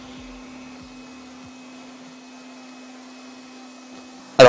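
A Lefant F1 mini robot vacuum cleaner hums with a steady, fairly faint motor whine throughout, ending in a sudden short louder burst at the very end.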